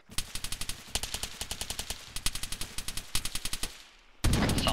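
Arma 3 automatic weapons fire in rhythmic bursts of sharp, evenly spaced shots, several volleys in a row, then a brief lull before a louder, denser blast of noise at the end.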